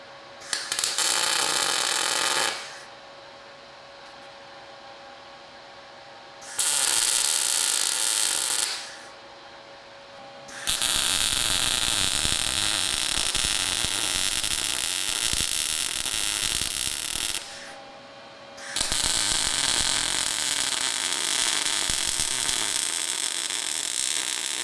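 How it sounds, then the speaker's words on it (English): Several bursts of loud, crackling electric welding on shock tabs under a Chevy OBS truck, each lasting a few seconds, separated by pauses filled with a low electrical hum. "We're getting ready to weld the shock tabs on."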